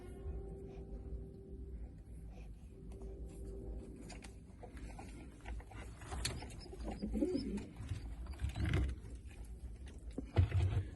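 Domestic pigeons coo softly inside a loft, low throaty calls that repeat now and then and grow more frequent toward the end, with light shuffling and rustling and no talk.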